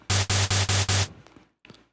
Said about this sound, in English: Now I like to add some white noise to it